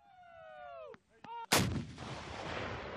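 An AT4 84 mm single-shot anti-tank weapon of Swedish origin fires with one sharp, very loud blast, followed by a long rumbling roar and echo. Before the shot, a high tone glides downward and stops briefly.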